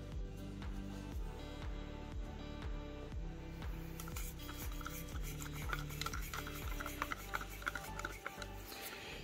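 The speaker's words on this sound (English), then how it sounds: "This is how I know I'm really gonna have to mix this one for a while to get it to smooth out." Acrylic paint being mixed with airbrush reducer, a steady scraping stir with repeated rhythmic strokes against a container, close and continuous with faint clinks and no talk.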